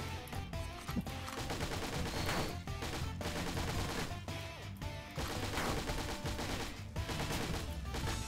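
Rapid bursts of Uzi fire from the PC game Dungreed rattle in a steady, quick rhythm over a busy layer of game music and effects, fairly faint overall.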